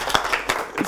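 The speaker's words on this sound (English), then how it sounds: "give them a round of applause" Audience at a talk show giving a brief round of applause, a few sharp claps close together in a short burst, with no speech over it.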